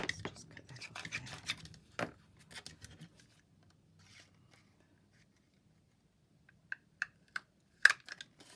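Scissors cut pink craft fabric for a floating pocket, giving soft close snips and rustles early, then a few crisp isolated clicks after a quiet pause.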